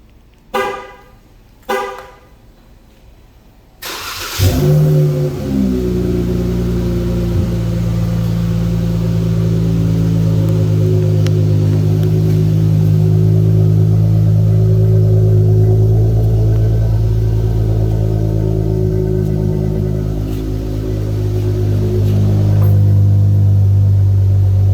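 2018 Dodge Charger with aftermarket exhaust tips: a few sharp blips up front, then the engine fires up and settles into a loud, deep, steady idle rumble close by for about twenty seconds.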